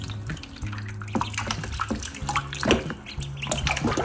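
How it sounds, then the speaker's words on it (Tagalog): Water being poured into a tub and stirred by hand, cold water mixed with a little warm, splashing and gurgling close by in uneven bursts without speech. "So, sobrang lamig ng tubig kanina. So, hinaluan ko yan ng konting mainit-init."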